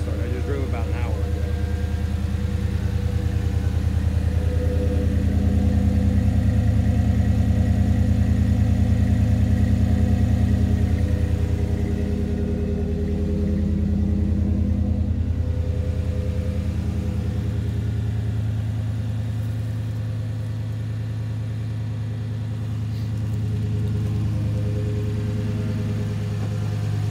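A Chevrolet Silverado pickup with a lifted suspension idles after a warm restart, giving a steady, close, low droning hum for the whole stretch while someone talks over it.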